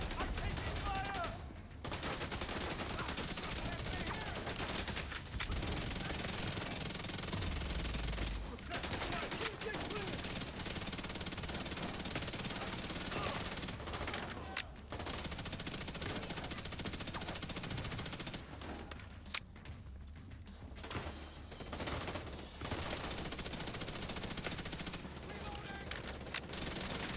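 Sustained automatic gunfire and bursts of shooting from a Division 2 firefight, loud and nearly continuous across the scene, broken by a few brief pauses, with voices calling out over the shots.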